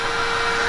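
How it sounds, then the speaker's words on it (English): A vacuum cleaner runs steadily at close range, a constant loud whirring drone with a high-pitched whine, used to suck up a wasp nest. "You can turn off the vacuum"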